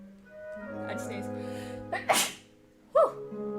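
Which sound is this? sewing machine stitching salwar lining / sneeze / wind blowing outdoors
sneeze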